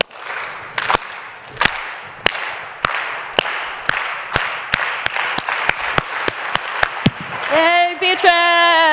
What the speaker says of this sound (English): we're gonna slow clap and bring Beatrice on the stage